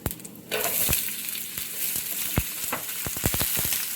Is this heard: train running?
no